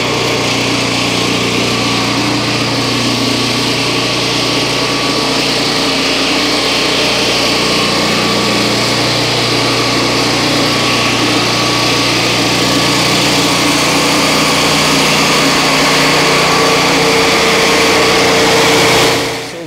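A Turbosawmill chainsaw mill runs loud and close while cutting a log, its engine holding a steady, high buzzing whine throughout with no break.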